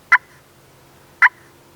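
Two short, sharp clucks from a turkey pot call, about a second apart, close and clear over a quiet background.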